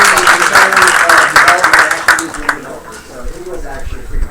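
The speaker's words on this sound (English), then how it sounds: "give yourself a round of applause again" A crowd at a game studio awards ceremony applauds with steady clapping, mixed with cheering and voices, then fades into chatter.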